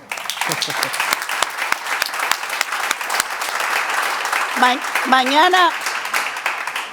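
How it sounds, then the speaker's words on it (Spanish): Conference audience applauding at a panel of the Iberosphere summit, a sustained wash of clapping from a large crowd, with a few voices calling out over it near the end. "Por favor, otro aplauso."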